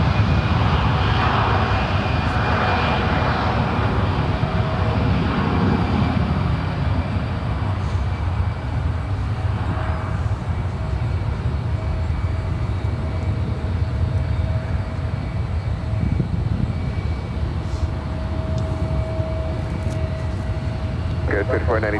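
Steady broadband jet engine roar from an Airbus A320 at San Francisco International Airport, a continuous drone with a faint tonal whine running throughout, while people talk in the background.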